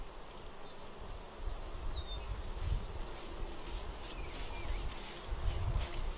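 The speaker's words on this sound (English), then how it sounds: "See all the bees there?" Honeybees hum and buzz steadily around hive frames set outside during queen rearing, a close dense drone with a few louder passes nearby.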